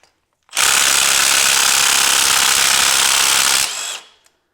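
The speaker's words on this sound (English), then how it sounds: "I'm gonna run that one top bolt in there back just a little bit" A power tool runs a bolt on an engine bracket near the power steering of an LS 6.0 engine in a C10 Squarebody truck. It gives one loud, close, continuous whirring burst of about three seconds, then winds down.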